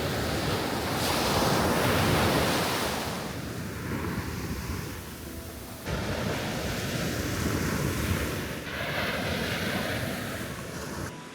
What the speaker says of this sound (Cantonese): 聽下海浪聲。